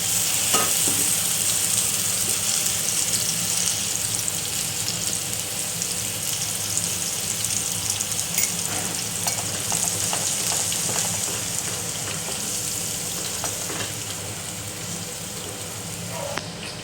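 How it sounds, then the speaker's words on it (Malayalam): Vegetables with salt sizzling and sautéing in a pan, a steady close frying hiss with occasional scrapes and stirring clinks throughout. "ഉപ്പും കൂടി ചേർത്ത് നന്നായിട്ട് വഴറ്റിയെടുക്കാം."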